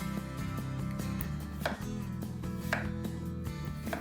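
Knife chopping potato into thin shreds on a chopping board, rapid steady chopping under a constant musical background with a few stronger strikes.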